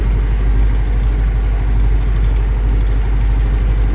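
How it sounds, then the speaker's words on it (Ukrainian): A loud, steady tractor engine rumbles continuously with a deep low drone and an even throbbing pulse while hauling a load, no voices heard. "Трактор тягне без проблем."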